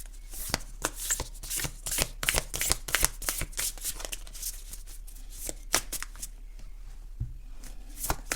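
Tarot-style oracle cards are shuffled by hand, giving a quick, rhythmic run of soft riffling slaps and flutters, close and fairly quiet throughout.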